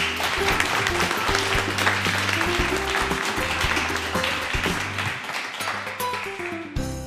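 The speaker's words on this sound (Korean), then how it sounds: "뜨거운 박수로 시작하겠습니다." Audience applauding at the opening of a public debate on overseas Korean voting rights, steady dense clapping under music, loud and sustained before cutting off near the end.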